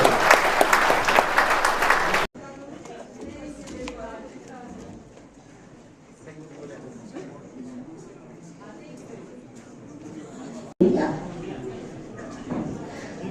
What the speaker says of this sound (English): A big applause for Bhante.